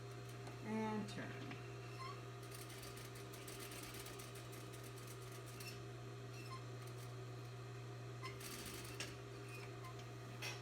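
A sewing machine hums steadily with faint ticking as it stitches around a buttonhole, turning at the corners. Quiet voices can be heard in the background.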